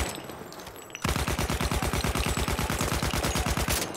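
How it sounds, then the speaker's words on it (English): Enemy gunfire in the Battlefield 1 game rings out as a long automatic burst of rapid, evenly spaced, punchy shots, loud and close, after a brief quiet moment. "That's an enemy gun."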